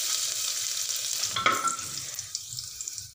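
Garlic fries in hot oil with cumin seeds, giving a steady, bright sizzle close by, with a few stirring scrapes. The sound fades out at the end.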